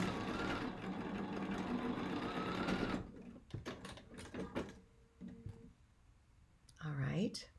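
A sewing machine stitches quilt pieces for a basket puzzle quilt in a steady, dense whir for about three seconds, then stops, giving way to soft clicks, handling noises and a person speaking.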